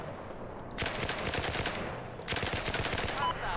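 Light machine gun fire in Battlefield 4, two long loud bursts of rapid automatic shots split by a short pause.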